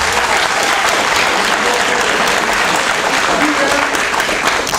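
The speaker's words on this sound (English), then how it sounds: "they deserve a big round of applause" A big crowd at a 2017 Amelia Pride Center graduation ceremony applauds its graduates with dense, loud, continuous clapping throughout.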